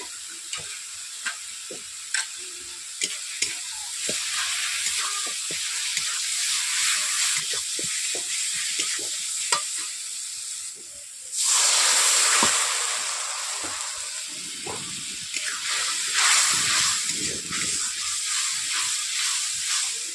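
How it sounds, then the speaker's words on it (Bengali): Spice paste of chilli, turmeric, coriander and cumin sizzles in a pan with frequent spatula scrapes and taps. A splash of water bursts into a loud, sustained hiss of steam partway through, then the frying and stirring continue. "ভালোভাবে কষিয়ে নেওয়ার জন্য আমি একটু অল্প করে জল দিলাম"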